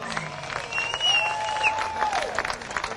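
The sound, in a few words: crowd applause for the ladies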